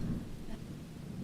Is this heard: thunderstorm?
yes